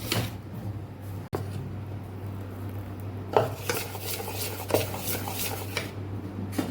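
A spoon stirs Mysore dosa batter in a metal bowl, giving quiet scrapes and a few sharp clinks against the rim in a home kitchen.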